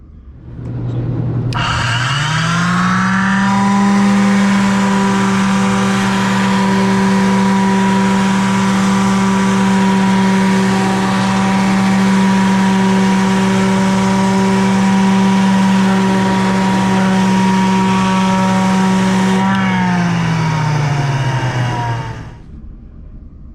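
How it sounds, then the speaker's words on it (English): Portable electric finish sander spinning up, running loud and steady at close range for about eighteen seconds, then winding down, with no talking. "When we use the finish sander, our hands are here just guiding the motor."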